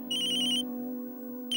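A phone ringtone sounds with an incoming call, a steady tonal chime in two bursts separated by a short gap, clear and close with no talking.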